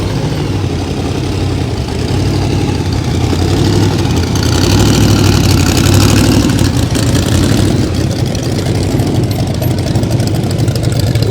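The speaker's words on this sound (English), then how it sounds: "Look at that exposed engine." Exposed engine of a vehicle in a Christmas parade on Poinsett Street in Greer, idling close by with a loud, steady rumble and slight rises in revs, amid outdoor street noise.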